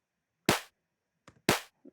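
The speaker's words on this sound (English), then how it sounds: "And then I've got the snare, which sounds like this," Two crisp, dry snare drum hits from a software drum kit ring out alone with no effects, evenly spaced, with faint soft taps between them.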